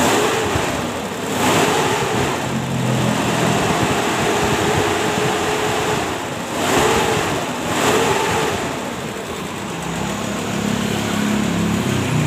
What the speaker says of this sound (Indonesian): Coba gas-gas biar juragan-juragan lebih puas mendengar suara mesin hardtop bensin